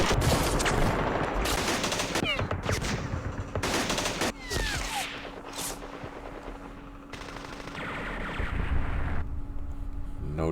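Bursts of automatic gunfire and single shots in the Campaign Series Vietnam wargame at Dien Bien Phu, loud and repeated in several separate volleys with short gaps between them.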